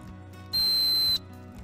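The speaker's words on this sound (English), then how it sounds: "It's got a little whistle." Small whistle on a paracord bracelet clip gives one short, shrill, steady blast of about half a second, loud and close, with a quiet low hum before and after.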